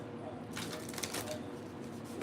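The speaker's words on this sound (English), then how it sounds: "Let me just shuffle again." Oracle cards being shuffled by hand, a soft papery riffling flutter lasting a couple of seconds at close range, with a voice speaking underneath.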